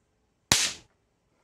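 A 160-volt camera flash capacitor from a Sony DSC-F717 digital camera shorted with a screwdriver: one sharp, loud crack with a quick decaying tail, otherwise quiet.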